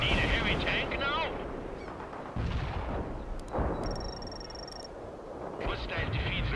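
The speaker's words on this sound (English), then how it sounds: "Artillery shells delivered on the mark." Artillery shells exploding in the video game World in Conflict come through as a dense, loud barrage of rumbling blasts. The booms run continuously from start to finish, with a thin electronic tone partway through.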